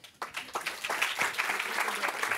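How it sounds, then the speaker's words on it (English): An audience at an academic medal presentation in a philosophy department breaks into applause, a dense burst of many hands clapping that builds and stays steady for a couple of seconds. "Applause, please."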